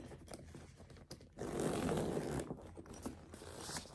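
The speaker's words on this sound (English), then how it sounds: "I just keep the double zippers on top here. So when I open it" Double zippers on top of a Minnie Mouse backpack being pulled open, a close, fairly loud sustained rasping zip lasting about a second and a half, with lighter scraping and rustling of the bag around it.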